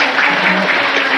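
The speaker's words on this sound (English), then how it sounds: "I would like you to give another big applause to" An audience at an international student design contest award ceremony applauds, a loud, continuous roar of many hands clapping together, steady throughout with no speech.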